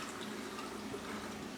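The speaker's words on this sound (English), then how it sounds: "So the water's just running all the way through" Tap water runs steadily through the cavity of a raw turkey, a soft, continuous splashing and trickling at close range with no talk over it.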